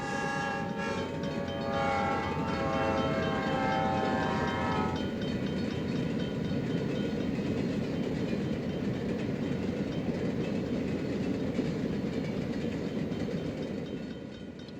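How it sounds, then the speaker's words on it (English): An Atlantic Coast Line E6A diesel locomotive rolls past, its horn sounding for the first few seconds over a loud, steady rumble of wheels and cars that fades slightly at the end. "Next will be leading number 519, an E6A from the Atlantic coastline."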